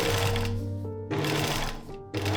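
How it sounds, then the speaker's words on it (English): A sewing machine stitches the seam allowance down on velvet stays in two short, steady bursts of rapid mechanical whirring, separated by brief pauses. "The seam allowance could be used as additional boning channels as well, so I sewed them down too."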